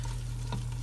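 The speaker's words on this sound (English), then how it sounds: "You can see the fat sizzling around the flour there." Fat and flour sizzle together in a pan as a roux for classic baked macaroni and cheese, a steady close hiss over a low hum with one brief stirring scrape midway.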